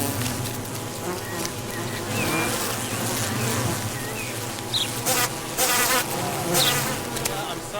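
Bees, including intoxicated ones among guard bees, buzz steadily in a dense, continuous drone with no voices, a few brief louder swells passing close by.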